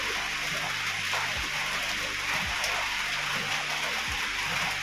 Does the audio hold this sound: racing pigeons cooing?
no